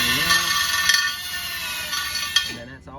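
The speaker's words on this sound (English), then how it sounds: "I'm going to take this thing here in my drill" A drill spins a wire brush over a Magnum 500 wheel, giving a steady high whine with light scratchy clinks. The whine winds down and stops near the end.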